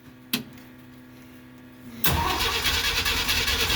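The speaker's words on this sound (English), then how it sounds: "The cranky cold start." A 1969 Jeep Willys CJ5 that sat for seven months, choke partly engaged on a cold spring morning, gives a sharp click and faint hum before the engine catches and runs loud and rough.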